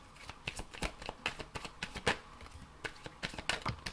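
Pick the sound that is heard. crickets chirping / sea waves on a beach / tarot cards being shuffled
tarot cards being shuffled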